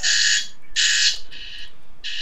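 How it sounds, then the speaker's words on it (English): An electronic alarm blares in loud repeated bursts, each a harsh buzzing tone lasting roughly a quarter to half a second with short gaps, heard alone without any voices. "Oh no, the alarm, it's blaring there."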